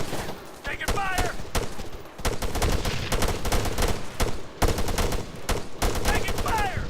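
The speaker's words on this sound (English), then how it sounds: "Under fire! Taking fire!" Dense rapid gunfire crackles nonstop in a military video game, bursts repeating close and loud with brief lulls, while radio-style voices and chirpy whistling tones cut through the battle noise.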